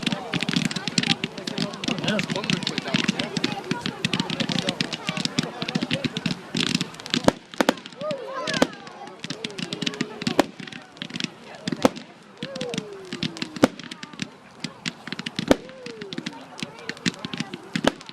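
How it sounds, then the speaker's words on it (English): Fireworks on bonfire night, with dense crackling bursts and scattered sharp bangs popping at varying distances, whistling rockets rising and falling, and people talking and calling out throughout. "The fireworks."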